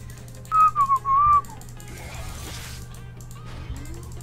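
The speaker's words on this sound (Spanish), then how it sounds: "Aquí el que silba soy yo" A person whistles a short, bright melodic phrase of a few rising and falling notes, close and clear over a quiet background hum, then falls silent.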